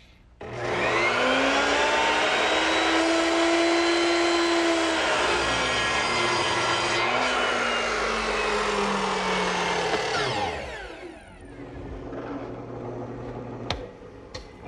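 Power drill boring a hole for a through bolt in wood on a child's wagon build, a loud sustained whining motor with shifting pitch that winds down after about ten seconds, followed by faint knocks.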